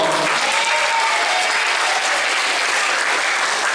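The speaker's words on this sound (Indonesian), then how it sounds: "Oke, tepuk tangan dong." Children clap together in steady, dense applause at the close of a disaster education session, loud and continuous throughout with no talking over it.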